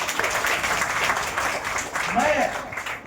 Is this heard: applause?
yes